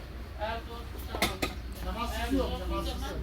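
Cooking pots being handled on a store shelf, a few metallic clanks and clinks heard close by while a person talks.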